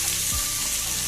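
Chopped chillies, ginger, garlic and onion fry in hot oil with a dense, continuous sizzle heard up close, briefly and with no voices.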